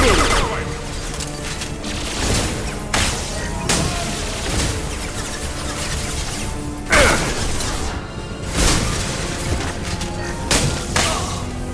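Gunfire in the video game Mass Effect 2, with loud repeated bursts of shots, sharp cracks and heavy impacts layered over a constant clattering battle din, close and dense throughout.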